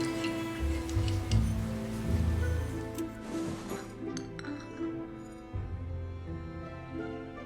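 A spoon stirs tea in a cup in a video game scene, with light clinking of metal against china over a soft musical background.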